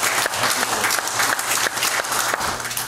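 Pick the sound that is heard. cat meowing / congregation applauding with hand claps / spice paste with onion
congregation applauding with hand claps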